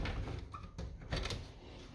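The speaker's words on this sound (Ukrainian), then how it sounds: "Так, відкривається ця дверка." A small door in a one-room apartment in Italy swings open, giving a few soft close-up knocks and scrapes of the latch and hinge, with no voices.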